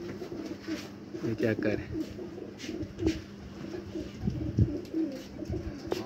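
Home-bred pigeons coo in low, soft repeated phrases around a new rooftop loft, with someone speaking briefly over the calls and faint outdoor background noise.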